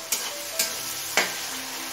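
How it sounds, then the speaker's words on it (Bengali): Tomatoes fry in a pan over a high flame with a steady sizzle, broken by three sharp clacks of stirring against the pan. "টমেটো নরম হয়ে আসা পর্যন্ত ভেজে নেব।"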